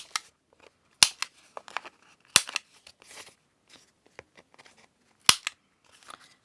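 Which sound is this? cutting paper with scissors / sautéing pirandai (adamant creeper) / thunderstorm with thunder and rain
cutting paper with scissors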